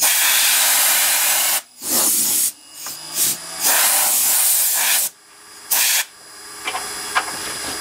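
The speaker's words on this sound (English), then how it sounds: "So we'll just blow this dust away" A compressed air gun blows sawdust off a freshly turned wooden dibber on a lathe: loud, close hissing blasts in several bursts of varying length, separated by short silences.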